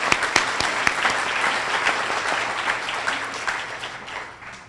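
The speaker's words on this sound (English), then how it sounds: "I just want to give a quick round of applause real quick." A graduation audience at a Take Stock in Children celebration gives a quick round of applause, loud and dense at first with a few sharp claps standing out, then gradually tapering off.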